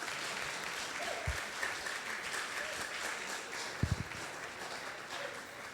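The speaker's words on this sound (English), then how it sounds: "The people are clapping for you." An audience claps steadily in a room, a continuous patter of many hands that carries on at an even level, with a couple of sharp thumps near the start and middle.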